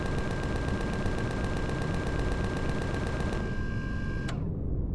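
Cannons firing from a base in Empyrion Galactic Survival, a rapid, steady stream of close, loud shots that runs without pause before cutting off sharply near the end.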